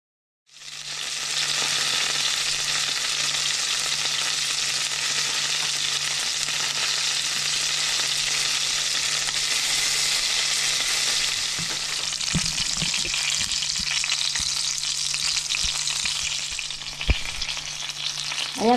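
Vegetable spring rolls, lumpiang gulay, deep-frying in hot oil: a loud, dense, continuous sizzle that starts abruptly and holds steady, with a low hum beneath and a few light knocks near the end, no voices.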